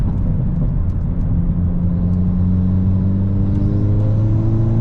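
A supercharged car with a new 4-inch downpipe accelerating on a wet road, a loud, steady engine rumble rising in pitch throughout, with no whine and no voices.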